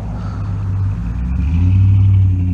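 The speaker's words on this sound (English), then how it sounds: "Ain't got the power to do a burnout." A car with a skipping, poorly running engine revs hard in a failed burnout attempt, giving a loud, close, low rumbling roar that swells and holds steady for a couple of seconds.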